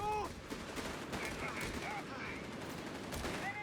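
Heavy machine gun fire in the Company of Heroes 3 strategy game, rapid sustained bursts with battlefield clatter and a narrating voice faintly underneath.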